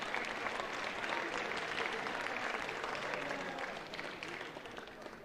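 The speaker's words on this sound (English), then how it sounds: "Let's give a round of applause to your class of 2025." A crowd at a school graduation ceremony applauding steadily, dense clapping that holds for several seconds and then gradually fades a little toward the end.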